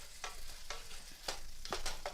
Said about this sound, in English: It chops up your meat really small.